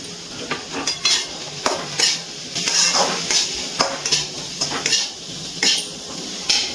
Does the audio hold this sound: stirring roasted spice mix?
yes